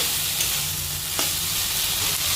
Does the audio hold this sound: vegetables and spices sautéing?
yes